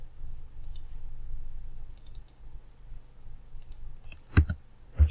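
A computer mouse gives a few sharp clicks, including a quick double click, near and crisp against a quiet room background while a label is edited.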